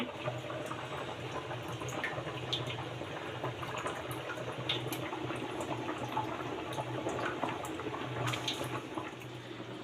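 Washed rice tipped into a pot for biryani on an induction cooktop, a steady watery pouring and rushing sound with a constant low hum underneath, close and fairly even throughout with no talking.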